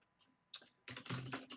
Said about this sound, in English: I'll just go ahead and type some of this out now.